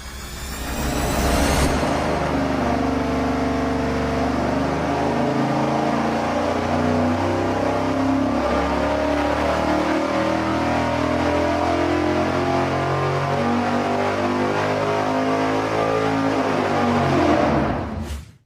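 A V8 engine with an Edelbrock intake revs hard on a dyno, a loud sustained roar climbing steadily in pitch for over fifteen seconds before cutting off abruptly.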